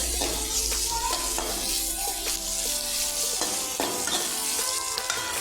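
Onions sauté in a pan for a quick curd rice dish, a continuous close sizzle with occasional stirring scrapes and small clinks, steady and moderately quiet, with faint tonal sounds in the background.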